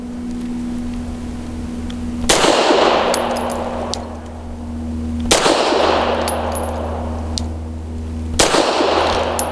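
A Wilson Combat SFT9 pistol fires PPU 158 grain subsonic rounds: three loud, sharp shots spaced about three seconds apart, each with a short ringing decay over a steady low hum.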